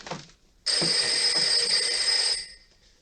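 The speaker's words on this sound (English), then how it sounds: "The phone is ringing." A telephone bell rings in one steady, loud burst lasting about two seconds, standing alone after a brief soft noise at the start.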